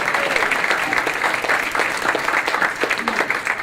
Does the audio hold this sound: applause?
yes